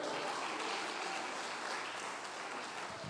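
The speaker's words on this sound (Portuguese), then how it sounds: "As palmas para ele." Congregation applauds during a sermon at a church service, a steady, unbroken wash of clapping throughout the short stretch.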